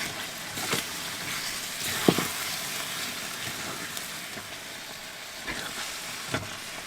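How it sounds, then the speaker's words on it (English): Squash and ricotta simmering gently in a pan over a low flame: a faint, steady sizzle and bubbling hiss with a few soft clicks and stirring knocks, heard alone. "I'm going to turn the flame down real low and let this simmer for a little bit"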